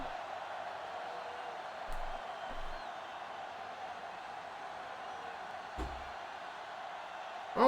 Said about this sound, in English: this home crowd going absolutely crazy